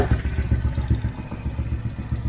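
A Honda PCX160 scooter engine fitted with a JBC B35 part idles steadily just after starting, a low, even putter with faint mechanical clatter, close and fairly loud, with no talking.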